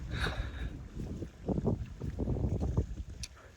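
Gusty outdoor wind at a newly built swimming pool being started up buffets the microphone in low, rumbling surges, rising and falling over a few seconds.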